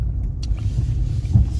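A car being driven after repair, a continuous low engine rumble and road drone, steady and fairly loud, with no talk over it.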